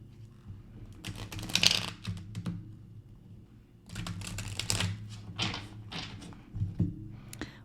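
A deck of stiff cards being shuffled by hand, with two rapid bursts of riffling and flicking separated by a short pause, close and fairly quiet.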